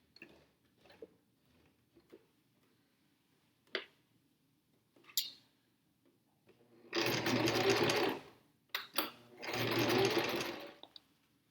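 A sewing machine stitches fabric for a two-horn jester hat in two sustained, loud bursts of rapid whirring, separated by scattered clicks and handling noises in an otherwise quiet room.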